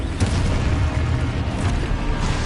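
A Confringo blast spell from the Hogwarts Legacy video game goes off in a dense, loud, booming burst that fills the moment, with heavy low rumble and crackling spread evenly throughout, close and without talk.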